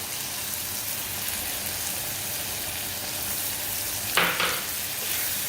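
Spinach puree cooking in a pan with sautéed capsicum, a constant dense bubbling sizzle with one brief stirring scrape near the end.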